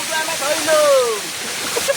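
A waterfall at Ashokjhar pours in a steady broadband rush, with a voice-like tonal sweep rising briefly over the water near the middle.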